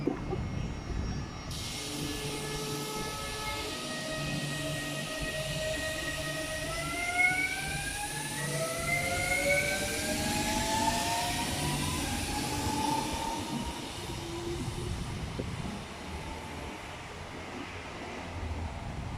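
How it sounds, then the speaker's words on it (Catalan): A non-stopping train rumbles through La Llagosta station with a rising whine and screeching tones, building and fading as it passes, loud and sustained. "Un tren sense parada."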